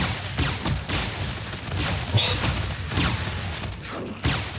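Repeated whooshing, booming bursts of magical triple fireball shots with crackling impacts in Heretic on GZDoom, several blasts in quick succession, loud and close.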